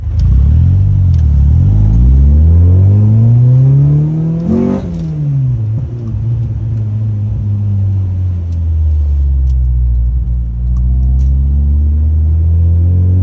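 A Honda Civic with a B20B engine, heard from inside while driving, revs up with rising pitch, drops sharply on lift-off, then rumbles along at a loud, steady cruise.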